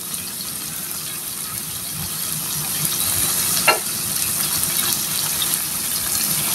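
Large pieces of pigeon meat sauté in a pan with a steady, moderate sizzle and soft stirring. One brief clink of a utensil comes partway through, and no one speaks.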